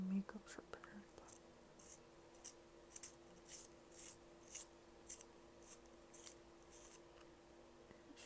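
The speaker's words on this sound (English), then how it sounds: "noticed that one of my coloring pencils is really low, so I found a sharpener" A small makeup sharpener grinds a coloring pencil in soft, close, rhythmic turns, about a dozen quiet scratchy bursts over a faint hum, with a voice murmuring underneath.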